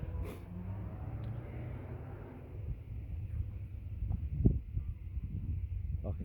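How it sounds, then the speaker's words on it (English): Low, steady rumble of cars passing nearby outdoors, a continuous wash of traffic with slight swells as vehicles go by, mixed with faint wind and no speech. "I can hear cars"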